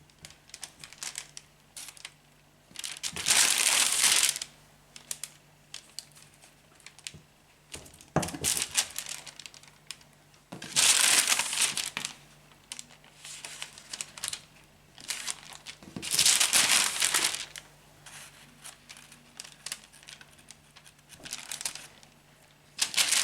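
Baking paper crinkles loudly in several separate bursts as dough for an Easter bread is handled and moved into a baking tray, with quieter rustling and a low steady hum between bursts.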